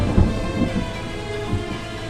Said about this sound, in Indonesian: Hujan semakin deras, disertai suara gemuruh.